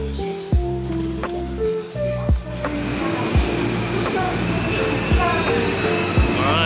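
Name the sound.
train ride to Akihabara in Japan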